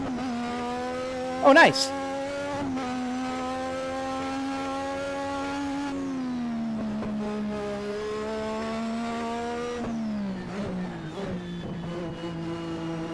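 Race car engine in the Assetto Corsa or BeamNG driving game holding a steady high-pitched drone with shifting revs, under a brief spoken remark.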